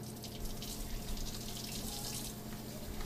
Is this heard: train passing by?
no